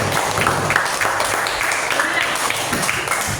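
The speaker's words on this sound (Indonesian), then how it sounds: "Oke, tepuk tangan untuk kalian" A classroom of students claps together after a lesson, a dense burst of many hands that holds steady and fairly loud, with some voices mixed in.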